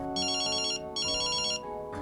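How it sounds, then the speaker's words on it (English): A telephone ringtone sounds during a dinner at home: two loud electronic ringing bursts, each under a second, separated by a short pause, with no voices. "The phone rings."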